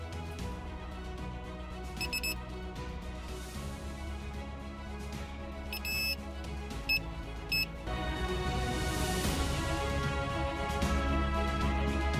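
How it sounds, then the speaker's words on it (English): Sharp electronic beeps from a handheld metal detector ring out in short bursts, a few isolated and some in quick pairs, over a steady low background hum with music-like tones. "a manual electronic device which beeps when its signals detect the presence of metal"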